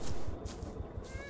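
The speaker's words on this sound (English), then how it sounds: "Oh, a cat." A cat meows in the horror video game Greyhill Incident, a single drawn-out, fairly clear meow over a dark, rumbling game ambience.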